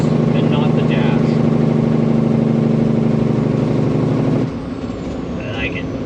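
Big farm truck engine braking with Jake brakes while rolling down a freshly graded smooth road, a loud rumbling low drone that cuts off abruptly, leaving lighter road and cab noise with faint squeaks.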